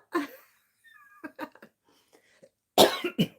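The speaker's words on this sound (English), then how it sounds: "I didn't mean to cough all over you" A few sharp coughs up close, one at the start and a louder pair near the end, with softer breathy sounds between.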